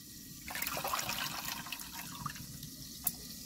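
Tomatoes and coriander leaves are rinsed in water, making a soft, close swishing and trickling with a small splash near the end.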